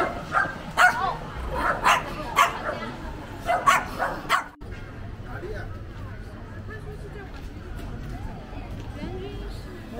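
A dog barks in a quick series of sharp yaps for a few seconds, then goes quiet while a voice talks over a busy background.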